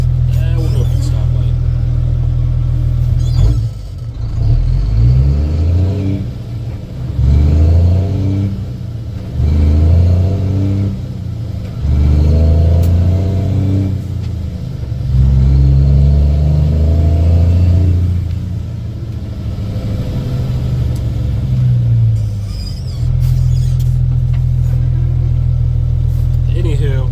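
A gravel-hauling truck rolls back into town, its engine rumbling low and steady with a few rises and dips as it speeds up and slows, while someone talks over it.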